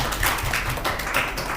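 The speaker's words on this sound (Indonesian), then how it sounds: "tepuk tangan untuk kelompok kedua" A group of people claps for the second group in a classroom, a short burst of scattered, moderately loud hand claps with no talking over it.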